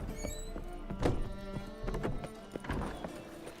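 Roach, a horse in The Witcher 3, clip-clops along at a walking pace with irregular hoof thunks, a faint game soundtrack beneath and a brief whinny-like sound near the start.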